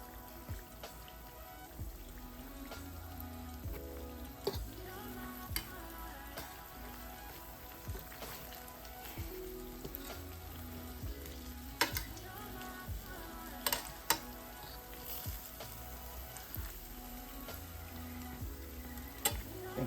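Fried apple pies made from canned biscuits sizzle in hot oil, a steady crackling fry with scattered sharper pops running throughout, close and fairly loud, with no talking.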